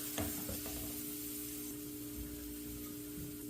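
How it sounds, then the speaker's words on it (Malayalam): Cashew nuts fry in ghee in a pan for ghee rice, a soft, even sizzle throughout with a faint low hum and a few light stirring clicks early on, no speech. "ഇനി ഈ എണ്ണയിൽ തന്നെ നമുക്ക് കുറച്ച് അണ്ടിപ്പരിപ്പ് ഒന്ന് ഫ്രൈ ചെയ്തെടുക്കാം"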